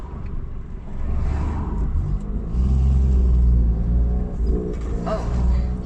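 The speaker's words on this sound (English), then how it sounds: "it's just difficult in this car because it's semi-automatic and I do have to change up gear on my own" A semi-automatic car engine rumbles steadily while driving, swelling as it accelerates and easing off again, with low road noise throughout.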